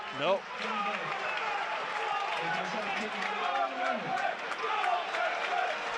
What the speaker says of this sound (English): The crowd getting excited about something.